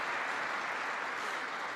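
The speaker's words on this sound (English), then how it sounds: "I thought that might get an applause." Steady applause from a crowd of U.S. troops at an address by the Vice President, dense and even throughout, with no talking over it.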